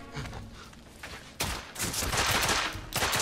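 Gunfire in The Order: 1886 video game, sparse shots at first, then a sudden heavy burst of sustained rapid fire that stays loud to the end.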